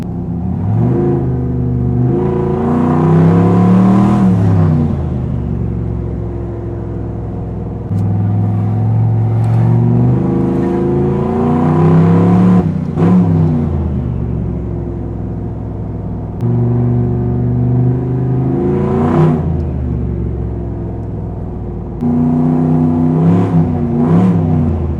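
Turbocharged single-turbo Chevrolet Silverado truck engine revving at half throttle, loud and close, with repeated rising and falling revs over a steady rumbling idle.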